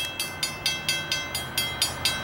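An eastbound Norfolk Southern train rolls past, wheels clacking over rail joints in an even repeating rhythm of sharp metallic clicks, fairly close and steady.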